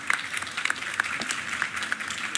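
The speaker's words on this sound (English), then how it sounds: "Another round of applause for you." Audience applause at a tech trade-show keynote in Berlin, a steady crowd of clapping hands with sharp individual claps standing out, close and fairly loud, with no speech.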